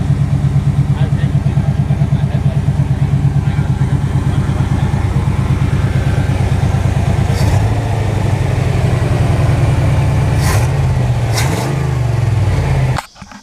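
A Chevy K1500 truck engine runs loud and close with a steady rhythmic idle pulse, then revs and settles, with people talking over it before it cuts off abruptly at the end.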